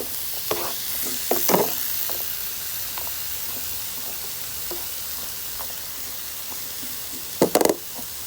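Chopped sweet peppers cook in a pan, with a steady low sizzle broken by a few sharp knocks and scrapes of stirring, loudest near the start and again near the end.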